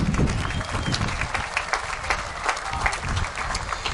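Festival audience applauding a musician at an outdoor Maui event, a lively full burst of clapping from a crowd with scattered individual claps standing out, steady and fairly close.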